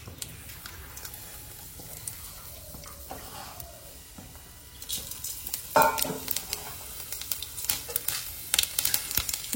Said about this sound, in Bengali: আমি ফুলকপিটা ভেজে নিই।